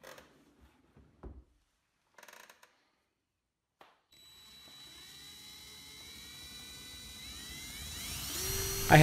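A drill bores holes for handles through a wooden drawer front while building a miter station. A few faint knocks come first, then a steady, close motor whine begins midway and climbs in pitch and loudness until the end.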